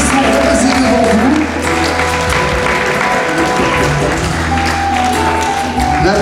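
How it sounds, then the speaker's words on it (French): A loud, sustained crowd applause for children in traditional costume at the Noz Kalon festival in Gemper in 2019, with music carrying steadily under the clapping throughout. "Applaudissez-les bien fort."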